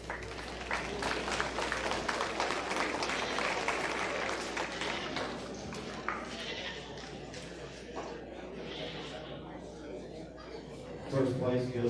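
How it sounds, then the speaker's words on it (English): An audience at a county livestock stock show claps in sustained applause, with sheep or goats bleating nearby and voices talking through the crowd noise. "let's give those young people a big round of applause"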